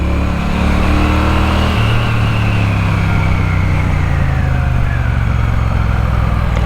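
A 2024 Triumph Bonneville T120 motorcycle engine accelerates hard through traffic, its loud, close exhaust note climbing steadily with a gear shift partway through, over constant wind rush.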